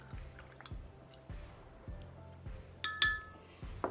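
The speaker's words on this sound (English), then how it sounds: "and give it a stir" Aloe vera gel is stirred into warm water, giving soft rhythmic swishes and squishy sloshes with a few light clinks against the container, close and quiet.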